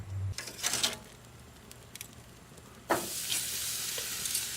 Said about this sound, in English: I've cranked this grill up, and we're going to start searing it